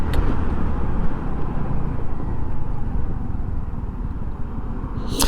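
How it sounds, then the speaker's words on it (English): Steady road traffic rumble while riding a small NAVI motorcycle, cars passing close by in a continuous loud wash of engine and tyre noise, with no talking. "It's a crazy day for traffic."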